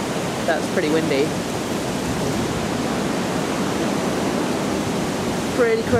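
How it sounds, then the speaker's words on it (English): Strong wind roars steadily through trees during a storm causing a power cut, a continuous broad rush, with brief talking near the beginning and end. "Wow, can you hear that? That's pretty windy."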